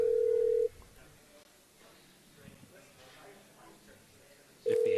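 A telephone ringback tone on a phone line: two long steady rings, one at the start and one at the end, with muffled talk and low noise between them.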